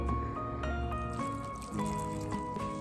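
Water pours and drips into a batter of spices, salt and baking powder for fried chicken, a steady liquid trickle with small splashes, fairly quiet and close.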